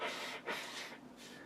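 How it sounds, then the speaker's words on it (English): A woman blows her nose in a couple of short, breathy honking bursts, close by and fairly quiet, with no talking. "somebody's blowing her nose here."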